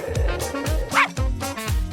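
A small pup, part of a pet gadget test, gives a series of short yipping barks, about four evenly spaced bursts, fairly close and clear with no talk over them.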